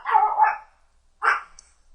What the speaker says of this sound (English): Oh, noisy doggies.